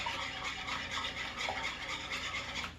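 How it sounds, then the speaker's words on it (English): An egg is whisked briskly in a bowl for a keto pizza chaffle, a fast, rhythmic scratchy scraping that keeps going without pause, faint and close. "we're gonna whisk it first"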